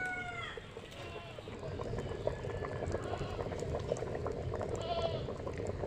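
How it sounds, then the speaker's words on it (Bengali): Pots of rice and dal boil on a stove, giving a steady bubbling hiss throughout, with faint bleating animals and other household sounds in the background. "তো এদিকে দেখো ভাত ফুটছে, ওদিকে ডাল ফুটছে"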